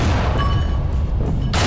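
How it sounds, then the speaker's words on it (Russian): Explosions in Garry's Mod give a loud, sustained booming rumble, dense and continuous, ending with a fresh burst of noise. "Ого, че у нас взрывается?"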